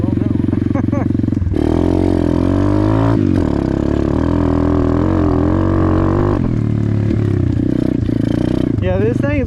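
A Honda CRF50 or budget Amazon pit bike engine runs steadily and loud throughout, its idle note shifting and rising in pitch at a couple of points, with no talk over it.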